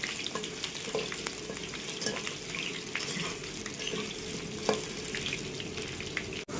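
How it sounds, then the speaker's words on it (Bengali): Potatoes fry in a pan, a continuous close sizzle with occasional light scrapes and taps of a spatula stirring them. "আলুগুলি লাল লাল করে ভাজা হয়ে গেছে বন্ধুরা।"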